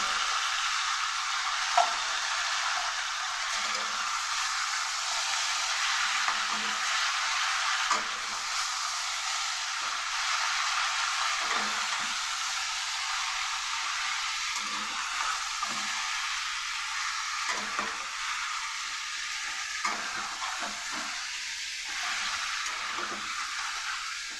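Chicken frying with salt and turmeric in a pan, a constant bright sizzle and hiss with occasional stirring ticks, steady and close, no talking.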